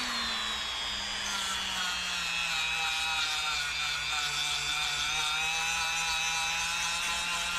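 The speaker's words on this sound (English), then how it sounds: "My preferred method, however, is a Dremel with a stainless steel wire brush." A variable-speed Dremel rotary tool spinning a stainless steel wire brush against copper whines steadily and high, with a low motor hum beneath, holding an even pitch throughout.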